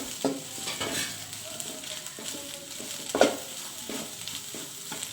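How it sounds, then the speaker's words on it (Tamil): A pre-fried egg is stirred into sautéed cabbage and carrot in a hot pan for Sri Lankan kottu roti. Steady close sizzling is broken by repeated scrapes and clinks of a utensil against the pan. "இப்போ வறுத்து வச்ச முட்டையை அதை போட்டு கிளறி விட்டுட்டு"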